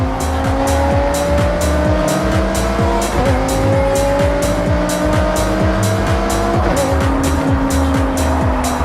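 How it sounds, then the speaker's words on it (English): A V10-powered supercar with race car handling tears along in a video game, its engine whining loud and steady through repeated gear shifts while tires squeal through the corners. "this V10 powered supercar could manage a top speed of 205 miles per hour"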